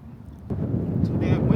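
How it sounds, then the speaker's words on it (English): Strong outdoor wind gusts across the microphone in a low, rumbling buffet that jumps up after a brief calmer moment and keeps blowing. "it's so windy"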